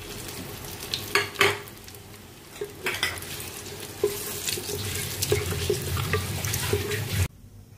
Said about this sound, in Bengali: আমার হাঁড়ির তেলটা গরম হয়ে গেছে, আমি সব ফোড়নগুলো একসাথে দিয়ে দিলাম।